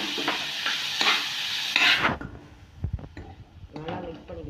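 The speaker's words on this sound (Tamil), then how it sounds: "இப்போ நல்லா வெங்காயம் நல்லா பொன்னிறமாக ஆகிற வரைக்கும் வணக்கிக்கலாம்" Sliced onions frying in a pan for paneer gravy masala, with a steady sizzle and scraping strokes of a spoon, then quieter clinks and stirring as a voice talks over it.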